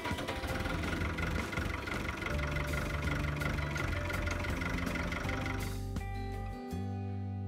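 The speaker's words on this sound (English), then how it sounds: "the block is warmed considerably and the engine fires up with no hesitation." A White 2-60 Field Boss farm tractor engine idles steadily and close by after a cold-weather block warming, a continuous low rumble that shifts briefly near the end.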